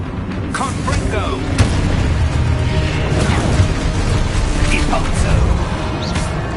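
In Hogwarts Legacy on PS5, a Confringo blasting spell sets off dense rumbling booms, crashes and pops amid busy game action, with continuous loud noise throughout.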